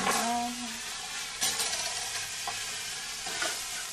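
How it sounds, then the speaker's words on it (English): Beaten egg sizzles in a hot pan as it is stirred around, with a steady crackling fry and scraping stir strokes, close and clear, with no talking. "Really stir it around till everything is coated in eggy yellow."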